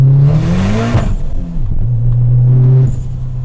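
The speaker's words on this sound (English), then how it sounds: "I hit limiter again" A tuned 500 hp Dodge Caliber SRT-4 running on ethanol revs loud and close up to its limiter. The engine note climbs and stutters, then drops away in a whooshing dip before holding a steady high drone.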